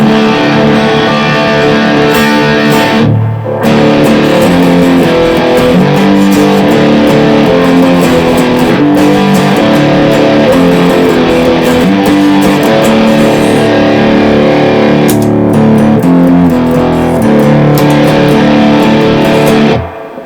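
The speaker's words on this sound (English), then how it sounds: "the X2N pickups really do well with the heavy distortion" A heavily distorted electric guitar with X2N pickups, gain high, plays loud, dense chugging riffs with brief breaks, thick and saturated throughout.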